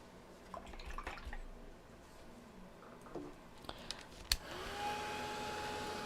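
A hair dryer switches on after a few light clicks and taps, blowing a steady close whir to dry acrylic paint on a Highland cow painting.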